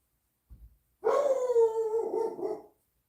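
Close by, a big hound dog gives a brief low grunt, then lets out a long, loud baying howl-bark lasting well over a second before trailing off, heard alone indoors.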